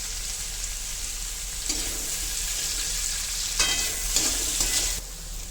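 Onions sizzle steadily in a hot pan, with occasional scraping and stirring sounds that briefly make the frying louder and crackle more.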